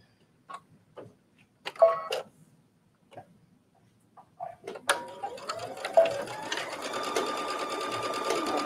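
A sewing machine stitching knit fabric, with a few scattered clicks and handling knocks first, then a steady rapid mechanical rattle of stitching that continues close and fairly loud to the end.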